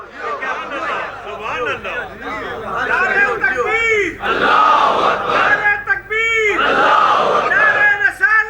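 A large crowd at a Shia majlis gathering chants religious slogans in loud, rhythmic unison, the massed voices rising and surging in repeated waves, with a speaker's voice between the chants.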